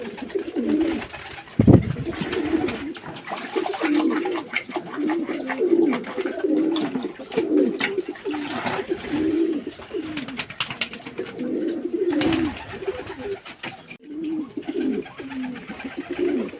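Domestic pigeons in their pigeon houses, birds with a green-diarrhea droppings problem, coo repeatedly in low throaty rolling calls, several overlapping birds close by, with occasional rustles and wing flaps.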